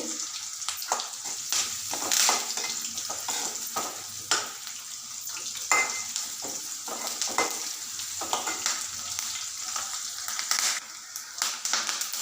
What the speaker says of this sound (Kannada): ಹಾಕ್ಕೊಂಡು ಫ್ರೈ ಮಾಡ್ಕೋಬೇಕು ಫ್ರೈ ಮಾಡ್ಕೊಬೇಕು ಆಮೇಲೆ ಕರ್ಬೇವು ಸೊಪ್ಪು ಹಾಕ್ಕೋಬೋದು